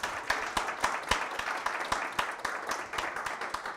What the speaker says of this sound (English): We need a round of applause one more time for Emma and Hannah.